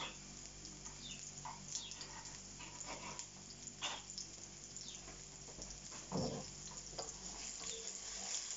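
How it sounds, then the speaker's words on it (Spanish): Onion and garlic fry in a pan outdoors while a countryside paella is cooked, a faint steady sizzle with occasional stirring clatter and a brief louder knock, fairly quiet throughout. "Se está dorando un poquito la cebolla al ajo."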